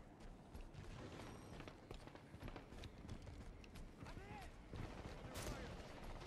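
Gunshots in the Halo 5: Guardians Warzone match, scattered quick reports and clattering battle noise at moderate distance, with faint voice and game sounds mixed in.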